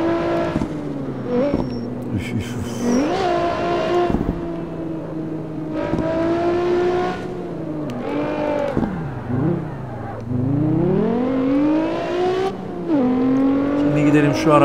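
A Nissan GT-R R35 engine in the Carx Street racing game revs hard and loud, rising and falling in repeated sweeps with shifts between, close and steady throughout; someone talks over it in places.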